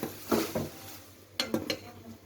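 Utensil scraping and clinking against a pot while a mixture is stirred, with a few distinct bursts of scraping and knocks spread across a short quiet moment.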